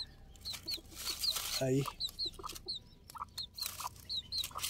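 Chicks peep in quick high repeated calls near and far while a hen gives a short low cluck, with a voice speaking briefly.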